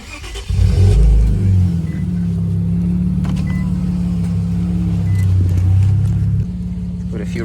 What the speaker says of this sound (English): But I'll give it a few revs here for you guys.